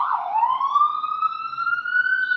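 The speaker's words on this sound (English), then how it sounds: "there's lots of sirens in this video" A single loud siren wails in one long rising sweep, clear and fairly close, with no talking over it.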